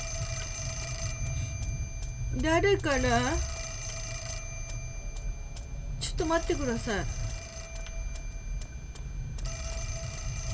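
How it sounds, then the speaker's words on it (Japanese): A telephone in the horror game Fatal Frame: Mask of the Lunar Eclipse rings in steady trilling bursts with short pauses between them. A speaker talks over the ringing in two short exchanges. "いやー電話がかかってきてるよ。"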